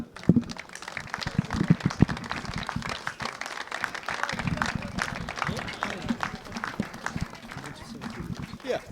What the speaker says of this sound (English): Introduce the President of Cricket Ireland, Henry Tighe. Applause,